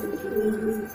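Pigeons held in a net for sale in Delhi give a short, close, low cooing call, a soft warbling burble lasting about a second.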